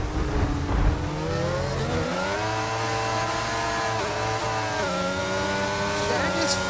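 Formula 1 race cars in a racing video game at Monza, high engine whine rising and falling through gear shifts, loud and continuous with a commentator talking over it.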